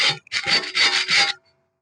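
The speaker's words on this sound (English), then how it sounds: "use one of these ordinary household scraper and scrape this off" An ordinary household scraper scrapes marine growth off a boat rudder in a few quick, rough, rasping strokes close by, then stops.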